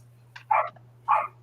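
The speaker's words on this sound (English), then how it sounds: "She heard your dogs." Dogs bark in two sharp, mid-distance bursts with a brief yip between them, over a steady low electrical hum.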